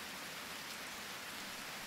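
Rain falling in the Harvest Moon video game, a steady, soft, even hiss of downpour with no other sounds.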